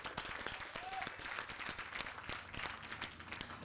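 Audience at an environmental justice community meeting in the East Ward claps for the mayor, a steady scattered round of applause with some voices mixed in, moderately faint throughout.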